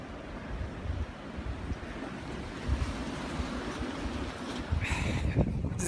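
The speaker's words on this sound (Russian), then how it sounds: "Снег сыпет, а его сбрасывает. Ох, и ветрюган." Strong wind in a Minneapolis snowstorm at minus five, a steady rushing roar with low buffeting rumble that swells in gusts toward the end, no talk.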